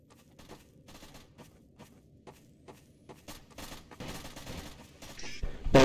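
Gunfire in the video game Neotokyo: short repeated bursts of shots, fairly faint at first, growing louder and denser toward the end with a final loud blast.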